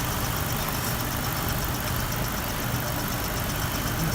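A car engine idles steadily, a constant low mid-range hum with a faint knocking texture that holds even and unbroken for the whole stretch, with no voices over it.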